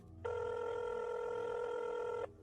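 A telephone rings once with a single sustained electronic tone lasting about two seconds, clean and fairly quiet, starting and stopping abruptly.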